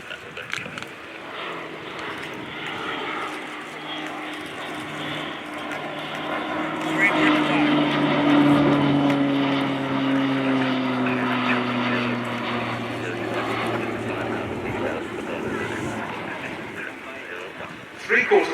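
PC-9M Hudournik propeller aircraft rolling with gear extended during an air display at RIAT 2024, a continuous droning engine note swelling and fading with shifting pitch as it passes, under a commentator's voice.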